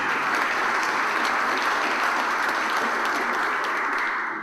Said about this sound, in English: I think they deserve a welcome applause also